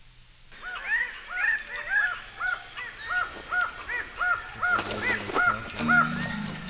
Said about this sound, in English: Wow, bird of paradise, huh?